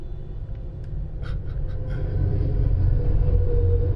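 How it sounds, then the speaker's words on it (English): A train passing outside a room, heard as a low, steady rumble that slowly swells louder over a few seconds, with no one talking. "Ew, pardon the train."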